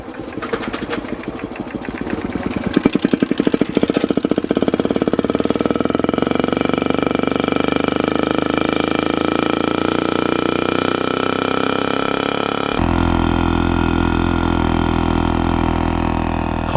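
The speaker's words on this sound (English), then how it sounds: "Called the Bata because of the noise the two-stroke engine made" A Honda A-Type two-stroke motorcycle engine starts with rapid popping putters that build into a steady loud buzzing run, then shifts to a lower, steadier drone, close and alone.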